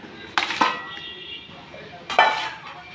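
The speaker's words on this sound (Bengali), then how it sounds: "ধুয়ে রাখা মুরগির মাংসটা কড়াইতে নিয়ে নিলাম" Washed raw chicken pieces go into a metal kadai, giving two sharp metallic clanks and scrapes against a quiet kitchen background.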